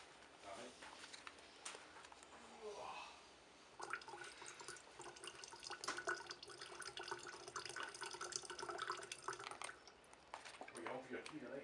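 Water bottles refilled from Loch Lomond through a Sawyer Mini filter: faint steady trickling and dripping of water, close and quiet, with a voice speaking over parts of it.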